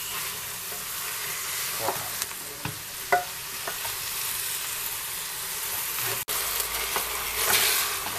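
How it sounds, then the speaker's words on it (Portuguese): Beef ribs frying in a pot for vaca atolada, sizzling and hissing steadily up close while being stirred, with scattered scrapes and knocks and a short spoken interjection. "Então, pessoal, colocamos toda a costela, já deixamos dar uma fritada."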